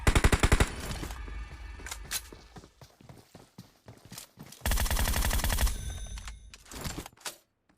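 Bursts of automatic gunfire in the PUBG Mobile battle royale game, loud and close, with rapid volleys at the start and a sustained burst midway, separated by scattered single shots and footstep-like clatter.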